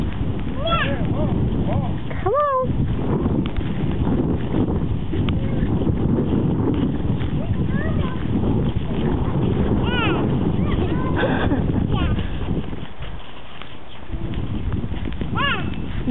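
A horse walks along outdoors with steady clip-clopping hooves under wind noise, while an adult talks and calls encouragement to a small child riding.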